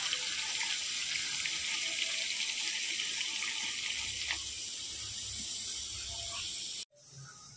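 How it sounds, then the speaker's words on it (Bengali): Water poured into a pot of braised chicken and potatoes, a steady close hiss and trickle running without a break until it stops abruptly near the end. "এবার পরিমাণ মতো জল দিয়ে দেব।"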